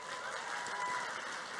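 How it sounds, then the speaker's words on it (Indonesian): A hall audience at a special session with presidential candidate Anies Baswedan claps steadily in a dense, even wash of applause for the full short stretch, fairly faint and without voices. "Siapa yang setuju, tepuk tangannya."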